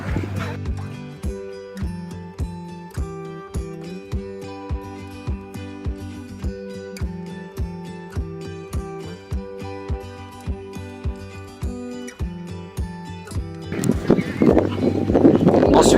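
A show-jumping horse canters around a jump course, its hooves striking in a steady, even rhythm of clip-clop beats over a humming backdrop, until a burst of broad noise swells up near the end.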